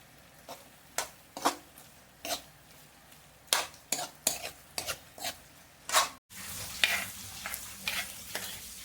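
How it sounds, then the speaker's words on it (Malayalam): Tomato masala cooking in a pan, with a soft sizzle broken by irregular scraping stirs of a utensil against the pan, close by, then briefly cut and resuming busier. "കുറച്ച് സമയം നമുക്ക് വേവിക്കുക കേട്ടോ തക്കാളി ഒന്ന് ഉടയുന്നത് വരെ വേവിക്കുക"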